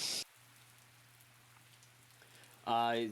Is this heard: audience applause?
no